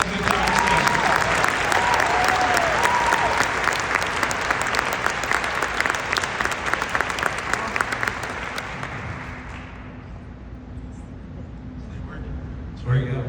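A Governor's Prayer Breakfast audience gives loud, sustained applause that fills a large room, with some cheering early on, then tapers off and fades toward quiet near the end.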